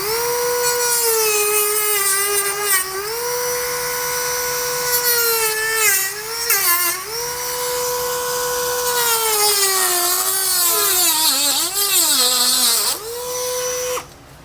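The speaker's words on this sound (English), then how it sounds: "with this being plastic, I'm just going to use a Dremel to kind of speed things up" A Dremel rotary tool cuts through a plastic hitch cover on a 2021 BMW X7, a loud, close, steady high whine that dips in pitch as it bites into the material, then cuts off at the end.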